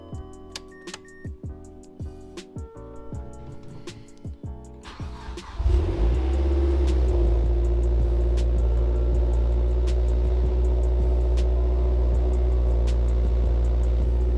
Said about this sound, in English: Forgot how loud this car was.